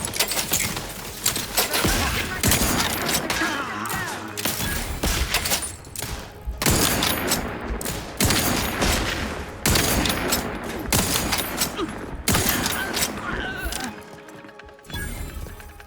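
Gunfire in the video game The Outer Worlds 2, with repeated loud bursts of shots in clustered volleys and thuds, heard close with game sounds between them and no talk.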